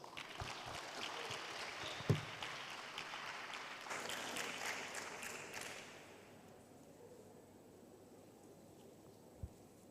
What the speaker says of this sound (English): Give you a big applause, please.